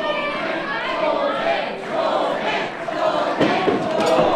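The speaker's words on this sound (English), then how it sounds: "The crowd is rallying behind him." A pro wrestling crowd at a Metro Pro Wrestling show roars and chants in support of J.J. Garrett, a dense, continuous wall of shouting voices that swells toward the end.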